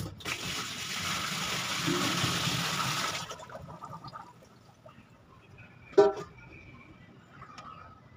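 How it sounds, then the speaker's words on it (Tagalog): Tap water gushes steadily into a sink fitted with a new drain rubber and spring, loud for about three seconds, then stops, followed by quieter drips and a single sharp knock. "ngayon, ang gagawin natin lalagyan natin ng tubig"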